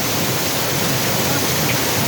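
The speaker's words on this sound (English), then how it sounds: "Water is coming very steady from the mountain." Mountain water flowing steadily down at a waterfall and picnic spot in Duki district, heard as a continuous, even broadband rush with no breaks and no voices.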